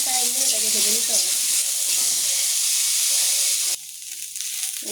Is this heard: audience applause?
no